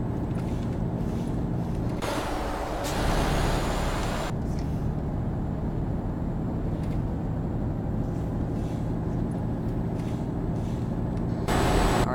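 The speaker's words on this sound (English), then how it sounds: "let's get this truck up to speed here" A heavy truck drives in Euro Truck Simulator 2, its engine a steady low rumble with road noise throughout, with a few louder hissing bursts like air brakes or wind near the start and end.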